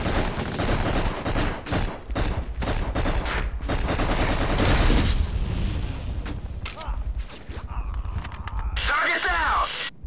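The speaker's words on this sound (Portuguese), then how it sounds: "a metralhadora dá muito dano" Rapid machine gun fire in the PS2 shooter Black, dense bursts of loud booming shots for about five seconds, then scattered blasts and distant combat, with someone talking over it.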